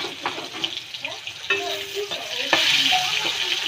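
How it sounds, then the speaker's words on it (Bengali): Sliced pointed gourd (potol), rubbed with turmeric and salt, frying in oil in a hot wok, a crackling sizzle broken by scraping stirs, moderately loud and close. "তোমরা পটলগুলি এভাবে ভেজে নেবে হালকা।"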